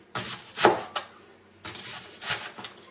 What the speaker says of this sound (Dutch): Dan de volgende stap is de ui in ringen snijden.